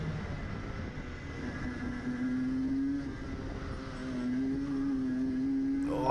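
A racing kart engine drones steadily as it accelerates on a track during a City of Melbourne titles race, its pitch rising and holding loud and close for several seconds, with a sharp burst near the end.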